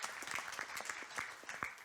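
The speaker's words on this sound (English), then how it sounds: "please applause" An audience at a space research and technology conference claps for a speaker, producing a steady patter of hand claps that holds at an even level throughout.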